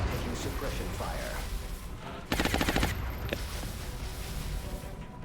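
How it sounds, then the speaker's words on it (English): Suppression fire in XCOM: Enemy Unknown rips out as a rapid, loud machine-gun burst lasting about half a second over a background of game noise and talk. "Taking suppression fire"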